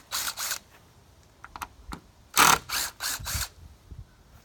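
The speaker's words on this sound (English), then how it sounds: "we can take the screws out of where the slats went to the original" A power driver backing screws out of wooden fence slats on a DIY trap door, short whirring bursts with ratcheting clicks, two at first and then four in quick succession, close up.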